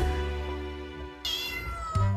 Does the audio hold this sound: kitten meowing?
yes